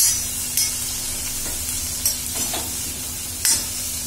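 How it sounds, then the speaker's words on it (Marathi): Cluster beans stir-fried with onion in a pan make a continuous sizzle, broken by a few sharp scraping stirs of a spatula, close up with no voices. "भाजी सगळी परतून घ्यायची आहे कांद्यामध्ये"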